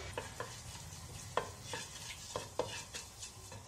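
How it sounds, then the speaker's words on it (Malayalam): Fennel seeds go into hot coconut oil for a green peas curry, giving a quiet sizzle under a series of sharp spoon taps and stirs against the pan, close by and without speech. "വെളിച്ചെണ്ണ ചൂടായി തുടങ്ങുമ്പോൾ നമ്മളൊരു 1/4 ടീസ്പൂൺ പെരിഞ്ജീരകം ചേർക്കുക."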